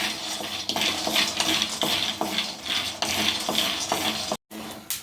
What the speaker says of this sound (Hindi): अब मूंगफली को इसमें डाल देंगे। तो मैंने 1 कप मूंगफली लिया है।